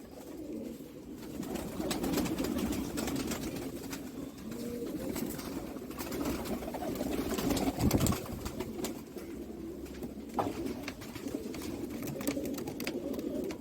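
Sialkoti pigeons at a breeder's loft in Jammu coo steadily and continuously at close range, with soft overlapping low calls running throughout and no talk.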